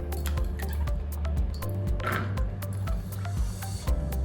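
Soaked chickpeas being washed by hand in a bowl of water: soft squishing and sloshing with scattered quick clicks and clinks of the chickpeas rubbing together, steady and close.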